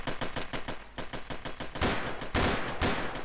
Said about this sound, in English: A mutant with a machine gun?